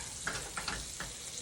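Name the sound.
vegetables stirred in a sizzling pan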